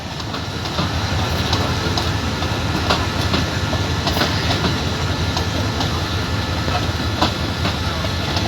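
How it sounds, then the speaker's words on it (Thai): Express parcel freight train 985, Bangkok to Su-ngai Kolok, rolls into platform 1 of a Thai railway station with a loud, steady rumble and faint clickety-clack of wheels under a constant hiss, close by. "985 ครับ มันจะเข้าเทียบชานชลาที่1 เพื่อจอดรับส่งสินค้าครับ"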